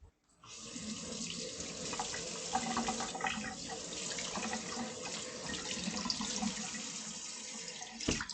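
Tap water runs steadily into a sink as food is rinsed for a pottage base, a close, continuous splashing stream that starts abruptly and carries on throughout.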